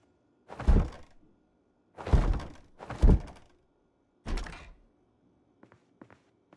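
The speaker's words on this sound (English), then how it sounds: "I heard somebody thumping on a door, though, somewhere." Heavy thumps on a door in Project Zomboid, four loud dull knocks spaced about a second apart, then a few faint taps, with silence between.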